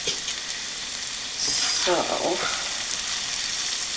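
Vegetables frying in a greasy pan for an easy breakfast, a steady close sizzle that swells louder partway through, with a brief word spoken near the start.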